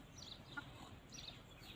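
Soft, intermittent chicken clucks over a low rumbling background, faint and somewhat distant, with a few brief higher chirps.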